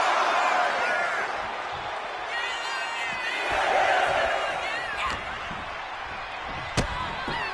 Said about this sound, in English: The crowd is fully behind Io,